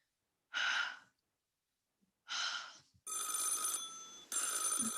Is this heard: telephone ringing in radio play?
yes